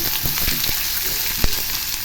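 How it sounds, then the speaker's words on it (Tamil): Garlic and onion fry in oil with a steady, close sizzle, punctuated by several sharp scraping stirs and one louder knock of the utensil against the pan. "பூண்டு நல்லா எண்ணெயில் நல்லா வறுபடணும். நல்லா வதக்கிடுங்க."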